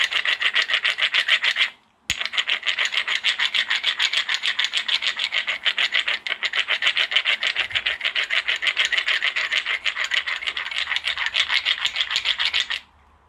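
Two stones are rubbed hard against each other to shape primitive tools, a loud, close gritty rasp in fast back-and-forth strokes, broken by one brief pause and stopping at the end.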